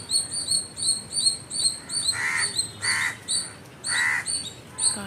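Several crows caw outdoors in nature, a series of harsh calls of moderate loudness alongside repeated high chirps from smaller birds, with no talking.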